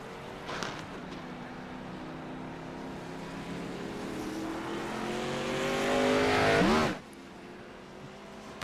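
Race cars pulling out of pit lane in a Gen 6 Cup Series racing game, engines droning steadily and building as they accelerate, then one car sweeps past close with a sharp pitch drop before the noise falls away.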